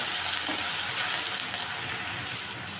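Onion paste sautés in a pan for mouri chicken, a dense, steady sizzle heard close up with faint stirring and no talk.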